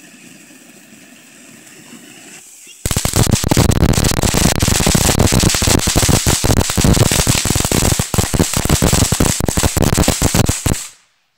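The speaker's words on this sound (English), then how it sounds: "Just like shoots up a bunch of fire, like mini fireworks" A small firework fountain on the Fourth of July bursts into loud, continuous crackling and popping after a quiet start, sprays for about eight seconds, then cuts off abruptly.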